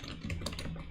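Keys clatter on a computer keyboard during a live coding session, a quick run of soft, close clicks and taps over about a second with no voice.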